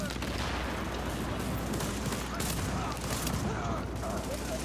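Gunfire in The Division video game comes as a dense, continuous stream of distant and near shots under a steady noisy backdrop, with players talking.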